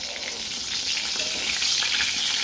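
Eggplant (brinjal) slices fry in hot oil in a pan, producing a steady, close, bright sizzle that swells slightly with faint stirring, with no talk over it.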